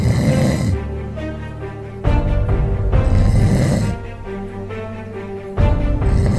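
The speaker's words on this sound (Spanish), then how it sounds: "Para deshacerme de sus fuertes ronquidos" A person snores loudly through several long, rasping breaths in a slow rhythm. The snoring is close and alone, with no talking.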